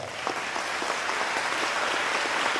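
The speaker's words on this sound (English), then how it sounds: "I want to give him a round of applause as well" Audience applause fills a hall at a governor's address to a workforce association gathering, loud, dense and sustained clapping from many people throughout.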